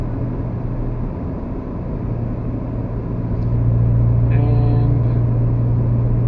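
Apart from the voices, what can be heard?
Mazda 3 six-speed manual car engine while driving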